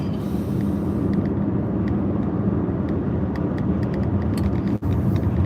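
An old car's loud, annoying engine noise while driving, a steady dense rumble that carries on without a break and with faint rattling ticks on top.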